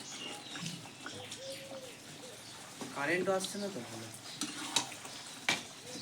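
A spoon stirs boiled potatoes with milk and softened onions in a pan, giving soft scraping and bubbling sounds at close range, mixed with a person talking.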